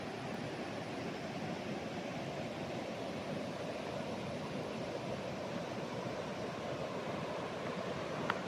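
Steady broadband rush of a river flowing past a farm property in Majayjay, Laguna, a constant even wash of water with no breaks, moderately distant and heard alone without voices.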